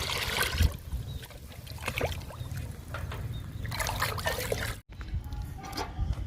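Leftover tea decoction is poured into kitchen-waste liquid plant fertilizer, trickling with light splashes, in bursts with short pauses between them.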